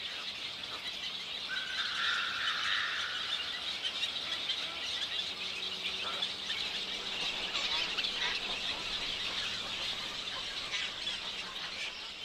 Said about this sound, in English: one of the other wading bird neighbors in the mixed colony, the glossy ibis